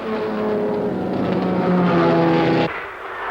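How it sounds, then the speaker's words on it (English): White Ford Cortina race cars roar up Mountain Straight at Bathurst during the 1965 Armstrong 500, several engines blending into one loud, sustained, near howl that drops away abruptly just before the end. "Top of Mountain Straight, Sutherland, Gagan, Needham, Studi, McPhee, Brown and Seton in 3 white Cortinas."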